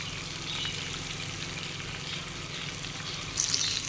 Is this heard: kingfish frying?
yes